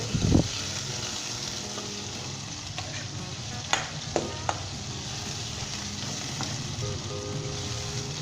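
Steady sizzling of chicken frying in a pan with ginger and garlic fills the clip, with a few sharp clinks and stirring knocks over the constant hiss.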